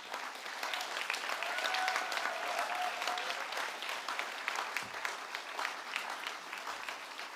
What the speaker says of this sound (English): Could we please have a final round of applause?